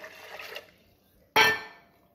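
Water is poured into a blender jar for a salsa, a short, bright gush that starts suddenly and quickly fades, after a soft earlier rustle in a quiet kitchen.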